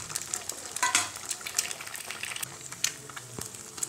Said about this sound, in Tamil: முட்டையை ஊற்றிடலாம்